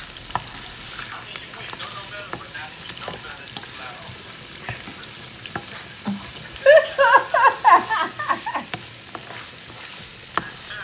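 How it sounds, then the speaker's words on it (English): Carrots and onions sautéing in leftover meat fat in a pan, a soft steady sizzle with brief stirring scrapes and a burst of louder crackle midway, close by. "Saute your carrots and onions in the fat that you cooked your meat in."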